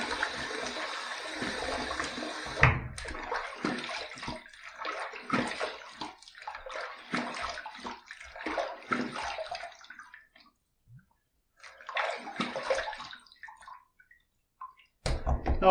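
Tap water running into a sink and splashing as a face is rinsed after a shave, with irregular splashes and gurgles, pauses, and quiet drips close by.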